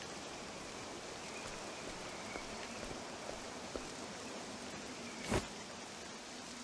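Steady rain falls in the video game Octopath Traveler 2, a constant soft hiss with faint droplet detail and a brief brighter splash near the end, no voices.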